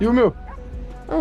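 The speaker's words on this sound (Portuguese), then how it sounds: "Nossa, tem um cachorro latindo aqui" A neighbour's dog in GTA V gives short yipping barks, one at the start and another near the end, heard close and loud while people talk in between.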